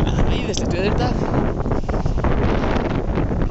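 Strong wind in a snowstorm, near freezing, buffets the microphone with a loud, constant roar, and a voice talks through it.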